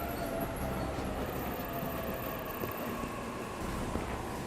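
Train in the video game 13 Sentinels: Aegis Rim, a steady rumbling hum of a stationary or idling train carriage, constant and moderately loud with no talk over it.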